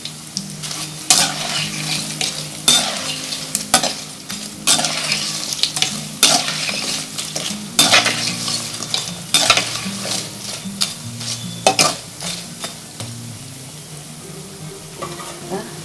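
Cabbage pakoda crackles and sizzles in hot oil with curry leaves, with frequent sharp clinks and scrapes from stirring in the pan over a steady bubbling fry, close and lively.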